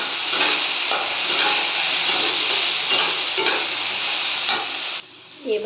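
Cumin and coriander powder fry with vegetables in a hot pan for a spinach and taro dish, a loud, continuous sizzle with rhythmic stirring scrapes, cutting off briefly near the end.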